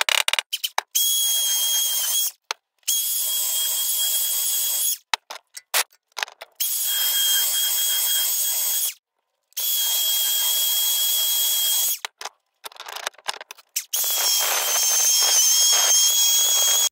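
Die grinder porting the turbo wastegate hole on a Toyota MR2 Spyder 1ZZ: a high, shrill whine running in long bursts of a few seconds, stopping and restarting with brief gaps and a stuttering patch, loud and close with no talk.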